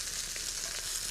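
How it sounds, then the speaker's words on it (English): Sage leaves frying in oil in a pan give off a steady, close crackling sizzle with no voices. "Look at the sage frying."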